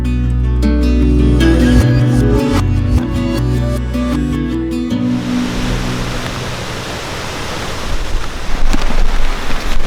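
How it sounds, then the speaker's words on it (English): Rain and gusting wind outdoors at an elk hunting camp in the backcountry make a loud, steady, broadband rush that grows denser and noisier through the clip, with a low rumble early on. "It's starting to rain and the wind's starting to pick up a bit."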